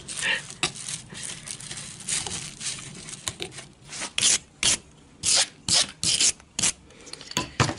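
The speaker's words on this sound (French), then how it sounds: "c'est du cambouis tellement épais, il faut que je le retire au couteau" Knife blade scraping thick, heavy grease off a car's steering rack, a series of short rasping strokes that grow louder and more regular toward the end, close up with no talking.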